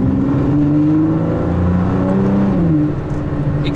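A supercar with its factory exhaust system revs loud and close, a sustained throaty roar rising and falling in pitch, with no talking.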